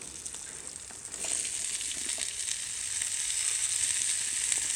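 Vegetables frying in a pan on a small side stove at a farm: a steady broadband sizzle that swells louder after a second or so as they go in, then holds constant and close, with no talk.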